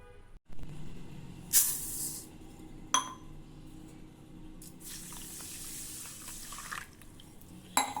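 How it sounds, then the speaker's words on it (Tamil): Water poured from a tap over a tumbler of kodo millet to soak it, in a home kitchen: a hissing stream that runs in bursts, with clinks of the vessel between them. "தண்ணி ஊற்றி ஊற வச்சுக்கலாம்."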